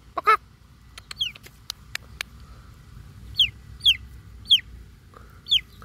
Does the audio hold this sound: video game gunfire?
no